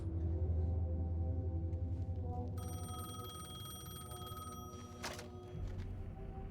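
A regular payphone rings in the video game Alan Wake II, a steady electronic bell tone starting partway through over a low, droning ambient hum, with a short burst of noise near the end.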